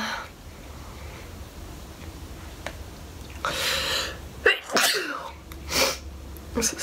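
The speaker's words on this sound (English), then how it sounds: "if I sneeze one more time, I swear." A person sneezes several times in a row during a makeup session, each burst sharp and close, separated by short pauses, with quiet breathing between.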